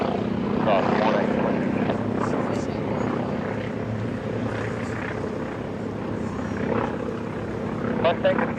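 A warbird aircraft making a pass down the runway at an airshow, its engine drone steady and loud throughout, with an announcer's voice over the noise.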